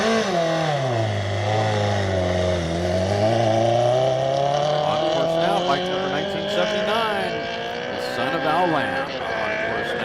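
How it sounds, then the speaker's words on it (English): A production pushrod Honda motorcycle accelerates at the Bonneville speed trials, its engine note sweeping up and down through several gear changes. The engine runs loud and continuous, with people talking over it. "Looks like this bike behind you is about to go fast."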